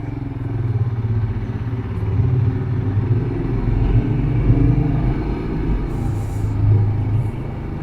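A Royal Enfield Himalayan 2021 motorcycle cruises along a road, its steady engine drone and wind rumble continuous and close throughout, with no voices.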